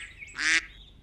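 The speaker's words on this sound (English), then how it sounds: "I just heard ducks quack" A single short, nasal duck quack rings out clearly in a children's nursery-rhyme cartoon setting, standing alone over a faint background.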